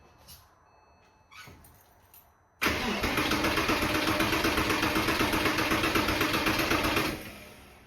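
A Porsche Boxster engine cranks on its starter with the fuel pump fuse pulled: a few short clicks and taps, then a loud, steady, rapid whirring crank for several seconds that stops without the engine catching.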